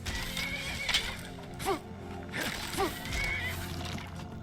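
Several horse neighs and whinnies ring out during horseback combat in Skyrim, over a busy game soundscape with rumbling and clattering, each call rising then falling.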